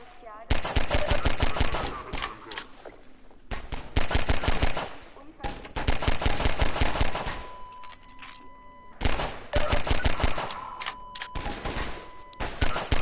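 Rapid automatic gunfire from the Half-Life 2 video game comes in loud bursts of close, sharp shots, some hitting water, with short quieter gaps between volleys.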